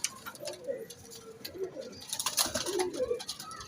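Pigeons coo repeatedly at close range in a loft setting, soft throaty rolling calls recurring through the clip over light background ticking and faint voices.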